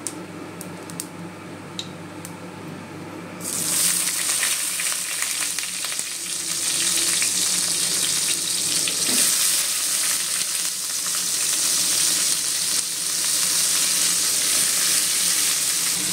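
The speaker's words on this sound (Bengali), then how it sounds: "কালো জিরে ফোড়ন দিয়ে সবজিগুলো যেগুলো আছে ওগুলো আমি এবার এই তেলের মধ্যে দিয়ে দেব" Vegetables hit hot oil seasoned with black cumin and burst into a loud, steady sizzle that continues up close, preceded by a few quiet ticks and kitchen clatter.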